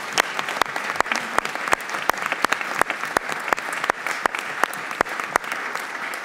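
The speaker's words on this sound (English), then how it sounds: "And if we just give a round of applause." A room at a congressional committee markup hearing on the defense authorization bill breaks into sustained applause, with dense, crisp hand claps rolling steadily for several seconds at moderate loudness.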